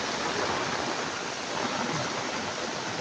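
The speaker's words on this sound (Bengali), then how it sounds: "এখন আবার প্রচুর বৃষ্টি শুরু হয়েছে। প্রচুর প্রচুর বৃষ্টি হচ্ছে" Heavy rain pours down outdoors near a river, a dense, continuous roaring wash of water at constant loudness with no talk over it.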